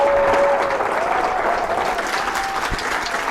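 A crowd applauds to welcome Senator Nina Turner as a guest speaker, giving steady, dense clapping throughout, loud and close with no talking.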